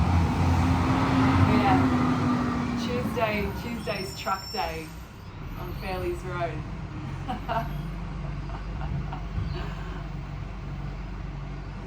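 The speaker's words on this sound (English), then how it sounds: "you get some traffic noise as well" Road traffic with trucks passing along a suburban road on a weekday, a steady low rumble of vehicles heard from a yard, running continuously under close speech.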